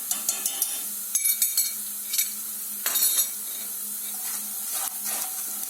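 Onions with salt sautéing in olive oil in a pan, a soft steady sizzle broken by scattered clicks and scrapes of a stirring utensil, close and moderately quiet, no voices.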